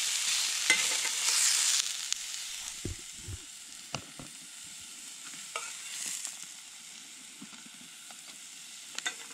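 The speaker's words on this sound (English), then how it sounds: "Spam's gotta be cooked crisp. Gotta be very crisp." Slices of Spam crisping on a griddle at a campsite, a close, steady sizzle that surges loudly for the first couple of seconds, then settles into a softer hiss broken by a few sharp clicks and scrapes of a utensil.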